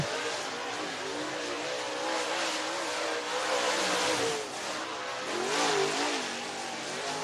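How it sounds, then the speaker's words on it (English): A race car runs a qualifying lap at Duck River Raceway, its engine roaring loudly and continuously with rising and falling revs as it drives through the corners, with no talk over it. "And our final qualifier in car number 13 out of Shelbyville, Tennessee, Scott Cook."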